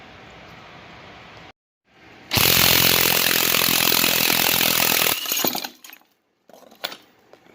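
Impact wrench loudly hammering off the crank pulley bolt on a 5.3 LS V8 being readied for a 1971 Buick Skylark swap, a sustained burst of about three seconds after a short pause, then trailing rattles and clanks.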